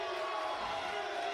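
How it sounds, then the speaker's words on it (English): A live independent wrestling crowd at a Rhode Island show cheers in a sustained, roaring swell, a steady wall of voices and whoops that holds at an even level throughout. "This crowd coming to life for the first ever Wrestling Open champion"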